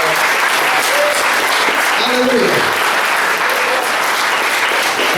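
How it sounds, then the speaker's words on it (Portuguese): A church congregation at a closing celebration claps steadily and loudly throughout, with a voice calling out over the applause. "Nós dessemos uma salva de palmas."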